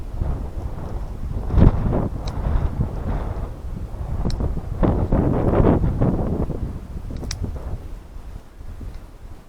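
Gusty wind blows outdoors, buffeting the microphone in rough, rumbling surges that swell and ease for several seconds, with no one speaking.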